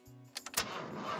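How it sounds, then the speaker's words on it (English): A car engine is cranked over in an attempt to start it, a few short bursts followed by a rougher run, heard alone at moderate level. "Try the engine again."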